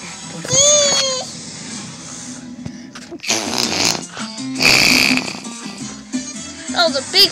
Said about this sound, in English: That was a big fart